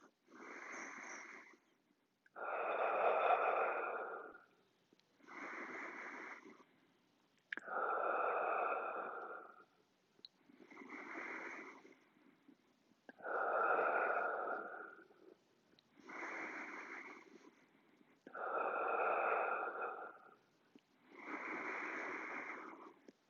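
Slow, deep breaths repeated during a held yoga pose, with a steady cycle of about five inhales and exhales, each a long airy rush, close and fairly quiet with no talking.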